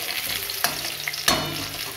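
Fish frying in a pan for a Bengali fish curry, a steady close sizzle with two sharp stirring scrapes against the pan.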